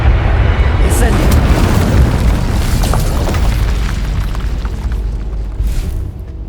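The Incendio fire spell going off in Hogwarts Legacy, a loud deep booming whoosh of flame that rolls and slowly fades, with a voice talking over it.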